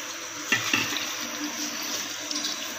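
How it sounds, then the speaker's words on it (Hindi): Water poured into a cooking pot while preparing a turkey recipe, a steady hissing splash running throughout with a couple of brief knocks near the start, close and alone with no talking. "ये मैंने इसमें पानी डाल दिया।"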